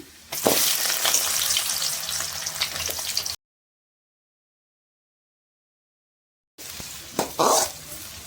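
Chopped onions frying in hot oil with curry leaves and garlic for a spicy pepper chicken fry, a close, dense sizzle with stirring, broken by a few seconds of total silence before the crackle and stirring return.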